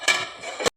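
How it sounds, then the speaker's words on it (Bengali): A metal lid goes onto a cooking pan of drumstick-flower chochchori, making two light, close clinks less than a second apart with a faint ringing between them. "ঢাকাটা দিয়ে দিলাম।"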